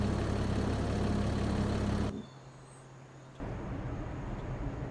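Tractor engine running in the Farming Simulator 25 video game, a steady low drone that drops sharply for about a second before returning at a slightly lower level.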